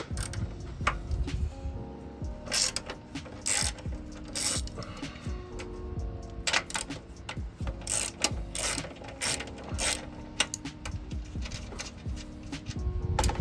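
Ratchet wrench clicking rapidly as it loosens 14 mm bolts on the strut mounts of a 2011-2016 Scion tC, close and fairly loud in repeated bursts of ratcheting with brief pauses between.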